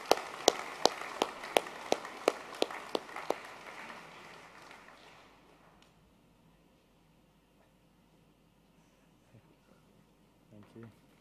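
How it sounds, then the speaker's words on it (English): Audience applause at a school's annual sports awards ceremony honouring Year 8 boys: a run of sharp, evenly spaced claps that fades out within several seconds, leaving a quiet room with a faint stir near the end. "Can you please join with me in another round of applause for our Year 8s?"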